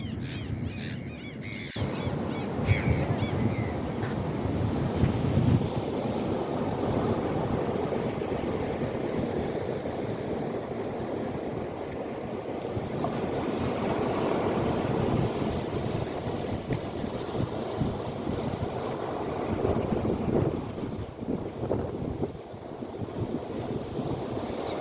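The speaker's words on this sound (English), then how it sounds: "with the waves crashing in and washing in pretty good" Ocean waves crash and wash up a beach after a big storm, forming a continuous broad roar mixed with gusting wind buffeting the microphone.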